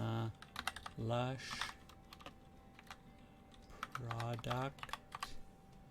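Keystrokes tap out scattered, light clicks on a computer keyboard while a person talks over them; the typing is quiet and sits between and beneath the voice.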